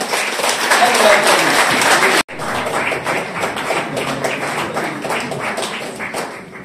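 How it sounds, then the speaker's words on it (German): An audience at a journalists' club event applauds two guests, dense clapping that cuts off abruptly, then resumes more loosely with scattered claps and some voices. "Applaus für die zwei."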